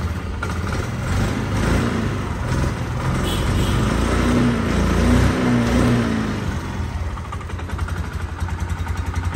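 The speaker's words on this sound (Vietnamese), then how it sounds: "Em nổ máy cho mọi người nghe nhé." A motorbike engine, a compact Luviat scooter, runs close by at a steady idle with a gritty, rumbling mid-pitched drone, slight surges partway through and no talking over it.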